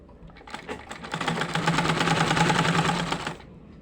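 Sewing machine stitching fabric in a single steady run of about three seconds, close and fairly loud, with the thread failing to form proper stitches.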